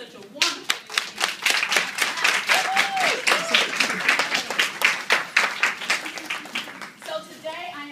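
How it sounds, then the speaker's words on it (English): Audience at a natural hair expo clapping for the evening's organizers, a dense, steady patter of many hands close by that runs throughout, with a voice speaking faintly over it near the end. "I want you to give them a hand clap for having such a wonderful evening"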